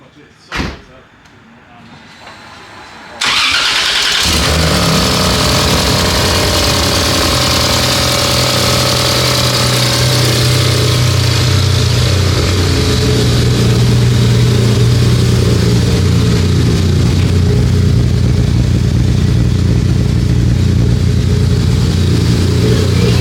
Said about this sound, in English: As you guys can see, man, the car is running